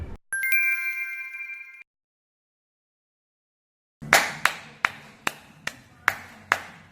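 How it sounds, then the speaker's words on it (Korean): After a brief electronic ring and a stretch of silence, one person claps about seven times in a steady rhythm, showing a cupped-hand technique meant to sound full in a concert hall. Each clap is crisp and close. "이걸 사용해서 우리는 이런 식으로 박수를 쳐주면 우리도 힘들지 않고 또 소리도 연주회장에서 잘 나서"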